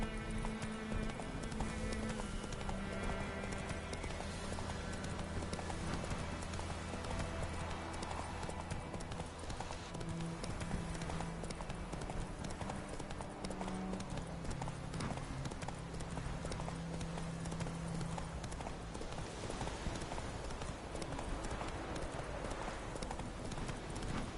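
Roach the horse galloping in The Witcher 3, a steady rapid clip-clop of hooves running continuously under game music and ambience.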